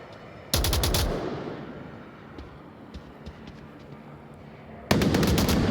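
Gunfire in the VR shooter Onward during a tournament match, a headshot. Two loud, close bursts of rapid shots stand out, with a quieter stretch of faint scattered pops between them.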